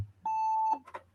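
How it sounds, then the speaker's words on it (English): A single electronic beep sounds in the background during a live stream, a steady tone lasting about half a second, followed by a few faint murmurs of voice. "I just had a beep in the background"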